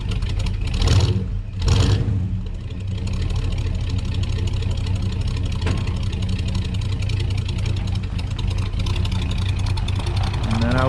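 A classic Ford F100 engine runs steadily as it warms up, held just above idle with the throttle, with two brief louder revs early on, close and continuous throughout.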